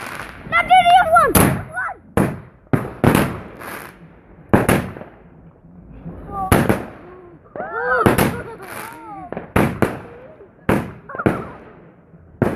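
Large firework rockets on bonfire night, with loud sharp bangs and crackling bursts going off in an irregular series, mixed with excited shouting and cheering from people nearby.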